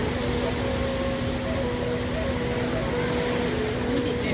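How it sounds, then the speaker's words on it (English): Morning birdsong near the ocean, short repeated chirps about once a second above a steady hiss of surf, moderately distant and without talk. "Thank the birds for coming out and singing this morning."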